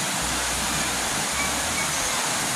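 Rushing water flows in a constant broad roar, like a river running nearby, steady and unbroken with no voices.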